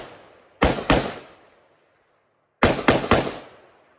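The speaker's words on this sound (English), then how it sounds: "This is the second attempt of me trying to bump fire." An AR pistol is bump fired in two quick bursts, first two sharp shots and then after a pause three rapid cracks, loud and close with echoing tails and no talking.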